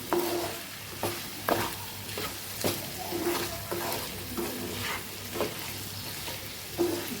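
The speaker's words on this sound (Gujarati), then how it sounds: "વચ્ચે વચ્ચે આપણે આમ હલાવતું રહેવાનું એટલે આપણા બટેકા નીચે ચોટી નહીં જાય" Potatoes sizzle steadily in a hot pan while a utensil stirs and scrapes them in periodic strokes, close and moderately loud.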